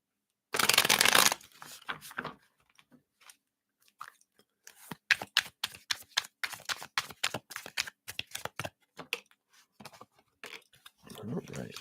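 Tarot cards being shuffled by hand, opening with a loud riffle burst and then a long run of crisp, rapid slaps and flicks in an irregular rhythm, close and clear, with no talking.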